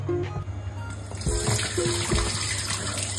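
Water draining off cut potatoes for French fries, a splashing, trickling pour with soft knocks and bumps, close and continuous after a brief quieter start.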